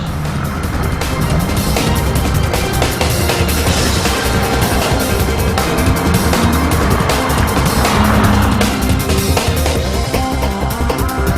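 Street racing cars on open vacant ground produce loud, continuous engine roar and tire noise, with squeals and gravel-like crackle over a constant rumble and no talking.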